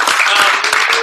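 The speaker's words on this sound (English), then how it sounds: "give it a round of applause" Brief burst of dense applause at a company branch awards breakout session, steady and moderately loud for about a second, with a faint voice mixed in.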